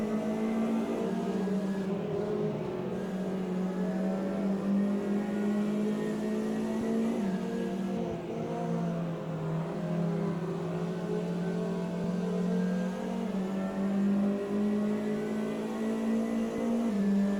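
A race car engine in a sim racing game holds a steady, droning whine as the throttle is kept even, with small pitch dips and rises through the turns. It plays on alone with no speech.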